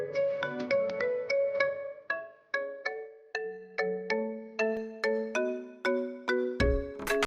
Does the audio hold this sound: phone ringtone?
yes